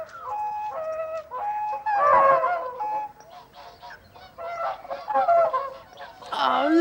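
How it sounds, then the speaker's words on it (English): Barnacle geese and whooper swans calling together: a dense, continuous chorus of honks and bugling cries, loud and near, swelling in waves as the flocks fly in to feed on a wintering ground. "All those barnacle geese and now squadrons of hooper swans coming in."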